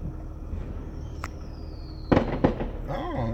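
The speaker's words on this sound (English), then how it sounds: "Yeah, it was fireworks." Fireworks popping outdoors in a city neighborhood: two sharp close bangs about a third of a second apart, then crackling, over a low background rumble, with no talking during the bursts.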